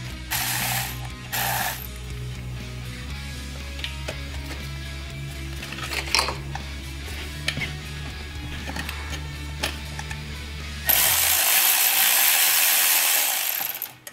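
Ratchet tightening throttle body bolts on a supercharged Gen 2 Coyote 5.0L Mustang, a steady close run of rapid clicking pawl ratchets over a low hum, ending with a louder hissing burst.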